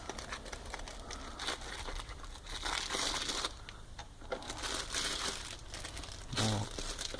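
Plastic bag crinkles and rustles continuously at close range while a Schrade Sch223s folding knife is unboxed, in a steady stream of crackly handling with a few louder bursts.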